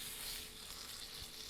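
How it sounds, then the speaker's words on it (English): A roast sears in a hot pan for a Mississippi roast, a soft steady sizzle and crackle throughout with no talk. "you can even pick it up and sear the edges like this too"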